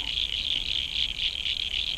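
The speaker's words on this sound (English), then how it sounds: "listen to the frogs, incredible." Frogs call in a steady, dense chorus along a lake shoreline, a continuous high trilling that carries through the whole stretch at moderate volume with no talking.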